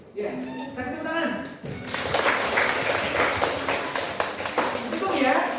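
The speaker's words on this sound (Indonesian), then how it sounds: "Ya, kasih tepuk tangan." Clapping from a classroom audience of teachers swells after a short pause and continues steadily, a dense crowd patter with voices mixed in.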